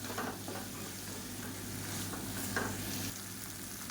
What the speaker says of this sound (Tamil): இப்போ நல்லா இதில் வந்து கரட்டி விட்டுக்கலாம்